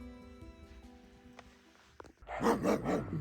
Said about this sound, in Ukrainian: що ти гавкаєш?